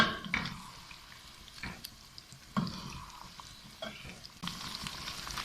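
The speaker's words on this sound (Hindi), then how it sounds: "बस इसी तरह 2-3 मिनट भून लेंगे।" Biryani masala frying on high flame, a soft sizzle broken by several scraping stir strokes and clinks, fairly quiet and close with no voices.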